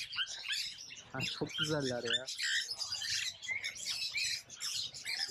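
Parrots and other caged birds at an exotic animal market in Bangkok, squawking and chirping in a dense, busy mix, with a nearby voice speaking briefly over them.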